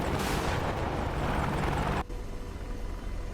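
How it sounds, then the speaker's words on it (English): Hellfire missile launching from an attack helicopter in the DCS World flight simulator, a loud roaring whoosh for two seconds that cuts off abruptly to a lower steady rotor and engine rumble. "George will let it rip with the Hellfire"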